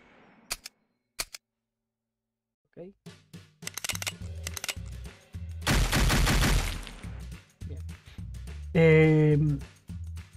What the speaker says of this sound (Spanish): Le hago ruido con el revólver.